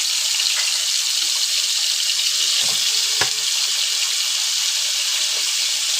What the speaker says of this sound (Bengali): ওই তেলের সাথেই আমি বেগুনগুলো ভেজে নেব।